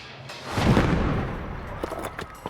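Simulated rocket-propelled grenade blasts go off in desert military training: a muffled boom swells and rumbles, followed by a few sharp cracks of distant gunfire.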